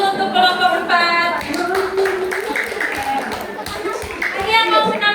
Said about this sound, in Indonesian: Oke, beri aplaus dulu untuk kelompok 4.